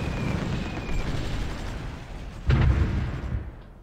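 Artillery fires in the strategy game Supreme Ruler Ultimate: a single loud, close boom rises out of a steady rumbling battle bed midway through.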